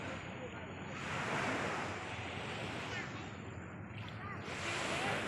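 Sea waves wash in at a beach in the early morning, a broad, soft, continuous surf roar with gentle swells and some wind rumble on the microphone.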